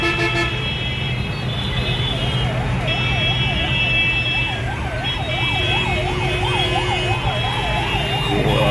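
An ambulance siren wails in a rising-and-falling pattern amid a dense national highway traffic jam at Wankaner, with car horns tooting and engines idling nearby.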